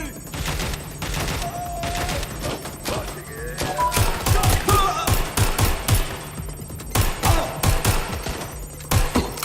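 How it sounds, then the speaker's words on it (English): Gunfire in the video game Watch Dogs crackles in rapid bursts of sharp shots, irregular volleys spread across several seconds amid game sound effects. "I'm taking fire!"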